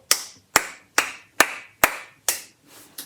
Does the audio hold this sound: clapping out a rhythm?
yes